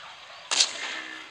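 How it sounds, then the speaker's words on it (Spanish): A single rifle shot in the hunting video game Dino Hunter, aimed at a Stegosaurus: one sharp crack that rings briefly, then fades into a faint hiss. "Este va a ser un tiro a la cabeza, mira."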